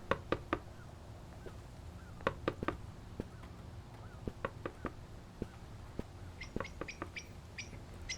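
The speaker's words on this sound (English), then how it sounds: "I hear a woodpecker." Sharp, scattered knocks of a woodpecker pecking in a bird-watching video game, in short irregular bursts, with occasional high bird chirps near the end.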